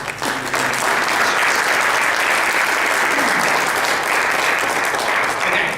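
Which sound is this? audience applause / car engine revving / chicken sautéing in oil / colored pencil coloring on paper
audience applause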